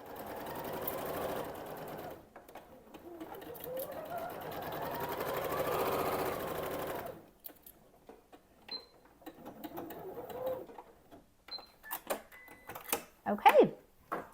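A home sewing machine set to a short stitch length of 2 runs steadily while stitching a quarter-inch seam to join quilt rows for a border. It whirs for several seconds, then stops and gives way to quieter handling sounds and faint clicks.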